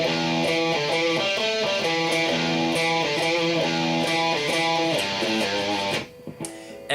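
A sustained, harmonically rich distorted electric guitar riff repeats steady chord patterns for about six seconds, loud and continuous, then breaks off and rings out briefly.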